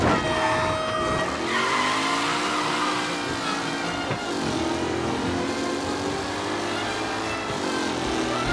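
A car in Mafia Definitive Edition drives and skids through a tight racing pack, its engine revving and sweeping in pitch while tires squeal loudly and continuously, with no talk over it.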